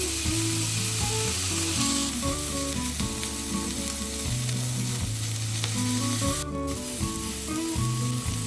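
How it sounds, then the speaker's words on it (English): A steak sears in a hot pan, giving a steady, close sizzle and hiss that runs the whole time beneath tonal background music, with a brief dip near the end. "the steak, I am just searing it on the edges"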